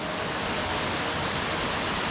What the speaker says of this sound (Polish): zrobiony wodospad, nie naturalny, tylko wybetonowali go